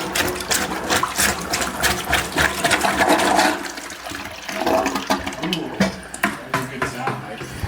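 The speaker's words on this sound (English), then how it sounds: "We got some flush noises that time around." A toilet flushing in bursts while being unclogged, with rushing, gurgling water that swells and fades over several seconds, close and fairly loud, with a voice speaking over parts of it.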